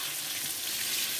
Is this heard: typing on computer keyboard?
no